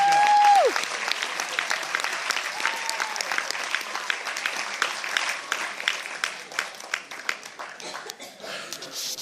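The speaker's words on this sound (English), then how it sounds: "give a round of applause for these amazing young men and women" A graduation audience applauds the graduates with steady, full clapping from a large crowd, some light laughter mixed in, and a brief voice at the start before the clapping takes over.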